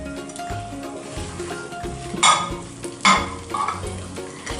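Fried eggs being stirred into a sizzling chilli sauce in a pan, with steady frying crackle and a few louder bursts of spoon scraping and sizzle as the eggs are tossed in.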